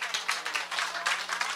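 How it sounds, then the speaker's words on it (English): A crowd at a People's National Movement street rally in San Fernando, Trinidad, claps in a dense, uneven patter of hand claps, moderately loud and close, with a faint voice underneath. "Give him a nice round of applause for me, please."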